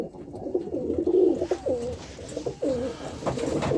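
Several pigeons coo in a loft holding old cock birds, stock birds and red birds, a steady run of low throaty rolling coos close by with no talk.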